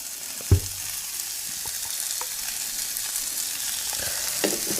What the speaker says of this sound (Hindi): मसालों को हम अच्छे से भूनेंगे ताकि मसाले का कच्चापन निकल जाए